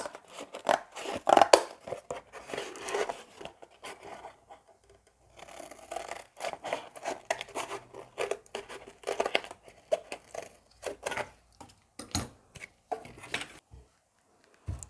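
Scissors snip through paper repeatedly, crisp cuts coming in irregular bursts with brief pauses and some paper rustling between them.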